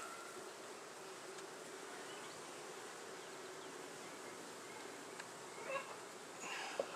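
A honey bee swarm on acorn plastic foundation: a dense, continuous buzzing hum, quiet and steady, with a few brief closer sounds near the end.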